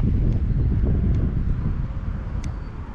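Wind blows steadily into a small cove at a roadside spillway, buffeting the microphone with a low, rumbling roar that eases slightly over a few seconds, with faint brief ticks above it.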